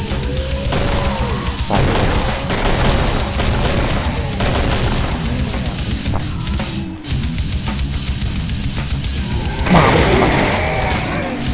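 Loud, chaotic combat in the game Killing Floor with repeated booming explosions and bursts of gunfire, crashing impacts piling on top of one another.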